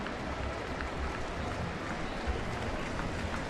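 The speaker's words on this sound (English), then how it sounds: "So again, a nice round of applause" Baseball crowd applauding an injured player, Daniel Robertson, as teammates gather around him on the field; steady, broad clapping and crowd noise wash evenly through the whole stretch with no voices on top.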